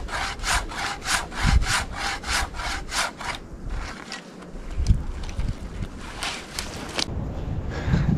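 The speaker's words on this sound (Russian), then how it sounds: "Ножовкой я тут до утра буду пилить." A handsaw cutting through a tree trunk in the forest: a fast rhythmic run of rasping strokes, then a pause and a second burst of sawing, close by, with wind rustling the microphone.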